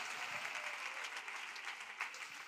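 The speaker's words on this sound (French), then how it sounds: "Acclamation." A church congregation at a French-language prayer and intercession service applauds and acclaims after a healing testimony, a steady wash of many hands clapping that stays fairly soft and even throughout.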